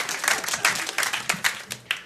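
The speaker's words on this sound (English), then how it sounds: "Just go ahead and clap for all of them." A stand-up comedy audience applauds, a moderate crowd clapping in uneven bursts with distinct hand slaps standing out through the short, lively patter.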